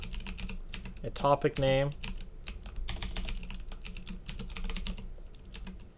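Rapid keystrokes clatter on a computer keyboard while connection settings are filled in, a close, steady run of clicks with short pauses, partly under a voice speaking.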